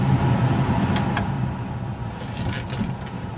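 A converted Mazda ZX2 electric car on a test drive around the block, giving a steady broadband road and cabin rumble with a faint whine and a couple of brief clicks.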